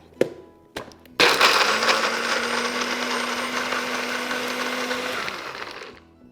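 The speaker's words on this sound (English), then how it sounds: "So let's blend the pesto." Almond pesto is blended in a blender. Two short clicks come first, then a loud steady whir runs about four seconds with a faint motor hum beneath it and stops abruptly.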